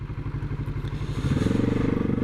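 Kawasaki Z650RS motorcycle riding in fifth gear, its engine a steady close pulsing drone that grows louder and heavier partway through as the throttle opens.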